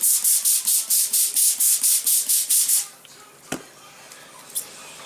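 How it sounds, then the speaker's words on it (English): Rapid series of about a dozen sharp spray-bottle spritzes of apple cider vinegar onto St. Louis spare ribs, close and rhythmic, followed by quiet with a couple of faint clicks. "Spray with apple cider vinegar."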